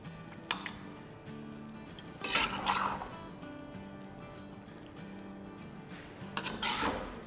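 Pans and metal utensils clink while stir-fried steak is served from the pan after the stove is switched off, a few sharp clatters spread over a low steady background with no talking.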